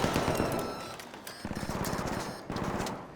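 Automatic gunfire in the video game Arc Raiders rattles off in rapid repeated bursts, moderately loud with a slightly distant quality, with brief pauses between volleys.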